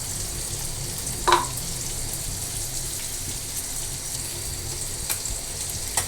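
Onion frying in oil in a wok gives a steady, moderately loud sizzle, with a single brief clink partway through and no talking.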